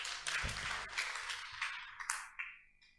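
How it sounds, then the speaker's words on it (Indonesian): Short burst of audience applause during a television talk show, moderate clapping from a small group that tapers off quickly into near silence within about three seconds. "Tepuk tangan."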